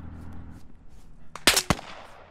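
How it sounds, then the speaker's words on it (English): Two sharp, loud sniper rifle shots ring out in quick succession in the military shooter Squad, the first a crack with a short tail and the second close behind, following quiet ambient game noise. "I just got sniped at from the east"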